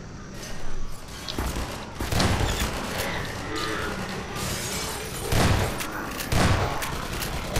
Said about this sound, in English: Being shot by a gunship.